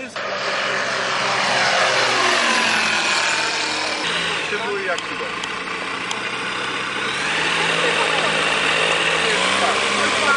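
Light composite propeller airplane from Krosno flying: a loud, continuous engine and propeller drone with shifting pitch as it passes, steady throughout and dominating the scene.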